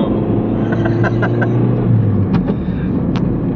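A car engine hums steadily and builds as the vehicle pulls away, with a low rising drone and a few light clicks and knocks on top.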